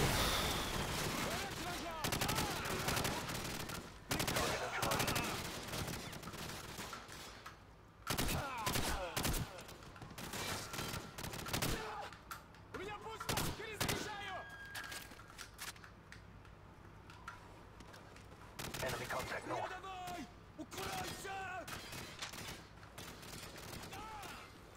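Dense gunfire from Call of Duty 4: Modern Warfare in repeated loud bursts and volleys across the whole stretch, with brief lulls between them and voices occasionally mixed in.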